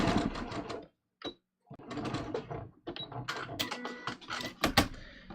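A sewing machine stitches fabric along each side of a basted line on a neckline, giving short rattling bursts of rapid needle strokes broken by pauses, close and clear.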